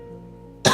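After a quiet, humming lead-in, a single sharp, loud cough bursts out abruptly at the very end during a tabletop roleplaying session.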